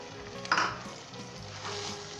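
A spoon stirs a minced beef and peas mixture frying in a pan, with a steady close sizzle and a scraping stir that swells briefly near the start.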